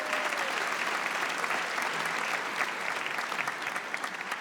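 An audience at an author talk applauds steadily, dense clapping filling the room at an even, moderate level throughout.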